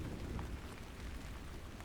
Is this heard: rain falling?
yes